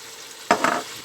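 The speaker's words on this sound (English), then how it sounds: "And give it a quick stir." A spoon gives one quick scrape through a pan of chicken satay sauce thinned with boiling water, with a soft sizzle after it. It is short and fairly quiet.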